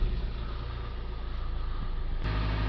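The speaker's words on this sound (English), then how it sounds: "Okay, let's start the vehicle." A Land Rover Range Rover Evoque with the 2.0-litre Ingenium diesel engine, Euro 6, with a blocked DPF, is heard close up: a steady low rumble, then a sharp change near the end as the engine starts and settles into a louder idle.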